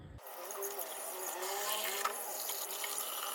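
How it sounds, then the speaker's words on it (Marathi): Water pours and splashes steadily while a new earthen water pot, soaked overnight, is rinsed clean, a close, fairly quiet gush that runs without pause. "पाणी भरून ठेवलेला रात्रभर हा माठ, आता आपण त्याला स्वच्छ परत धुवून घेऊया"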